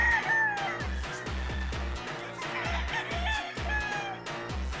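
Young gamecock stags of a Gilmore and gray cross crow and cluck repeatedly at close range, rough, uneven cock-a-doodle calls overlapping in a lively pen with no talk.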